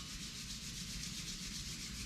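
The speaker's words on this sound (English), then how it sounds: "Rub your palm" Palms rubbed briskly together in a yoga session, a steady close-up broadband swishing friction that stays even for the full stretch with no voices.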